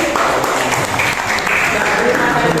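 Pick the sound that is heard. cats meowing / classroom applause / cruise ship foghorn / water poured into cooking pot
classroom applause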